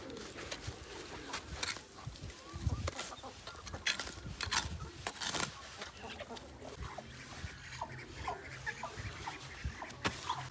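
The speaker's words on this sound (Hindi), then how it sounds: "अरे चिक्स आ भी गए हैं खाने के लिए।" Chickens and chicks clucking as they gather at feed near fresh grass on an open farm, with short calls scattered over rustling and outdoor background noise.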